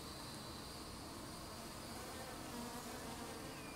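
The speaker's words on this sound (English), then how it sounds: "I'm getting a little bit more bee activity," Honey bees buzz up close in a steady, continuous drone with higher whining tones from individual bees passing near, constant and fairly even throughout, with no talking.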